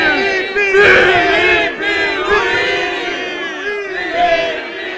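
Flamengo supporters in the stands chant together in a loud, dense mass of voices, sustained and rhythmic, close and filling the space.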